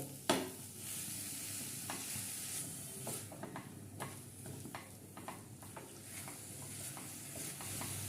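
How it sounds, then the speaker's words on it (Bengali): A coconut and nolen gur (date palm jaggery) filling cooks in a pan, quietly sizzling as a spatula stirs and scrapes it in repeated soft strokes, without talk. "দিয়ে এবারে আমি নারকেল আর গুড় দিয়ে পুরটাকে তৈরি করে নেব।"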